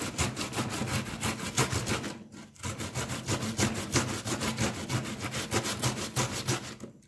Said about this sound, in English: I won't be grating anymore